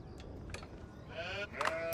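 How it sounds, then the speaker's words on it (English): A sheep bleats twice in a Mongols versus Ayyubids strategy game match, short wavering calls over a low hum of game ambience. "There's a sheep."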